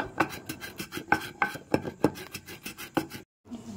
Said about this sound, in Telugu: ముందుగా 1 స్పూన్ కల్లుప్పు వేసి మెత్తగా పౌడర్లా చేసుకోవాలి.